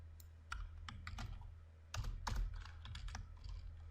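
Typing code on a computer keyboard, close and quiet: irregular bursts of key taps with a busier cluster in the middle, no voices.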